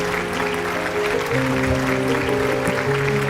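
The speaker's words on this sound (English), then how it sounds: "And there is a big cheer for MUKA from the supporters of MUKA." Supporters cheering at a local cricket league match, a dense, continuous crowd roar with sustained shouting and whistling tones, loud and steady throughout.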